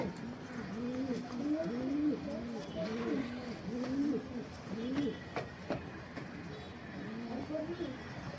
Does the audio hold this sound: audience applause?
no